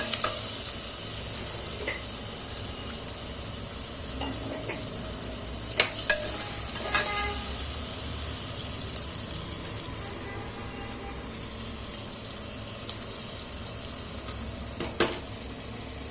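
Dal khichdi mixture sizzles steadily in a pan while it is stirred, with occasional scrapes and clinks of a spoon against the pan over a constant frying hiss.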